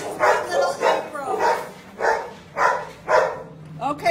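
Dogs at a Texas shelter bark in a regular run of about seven loud, close barks, each roughly half a second apart, with some whimpering near the end.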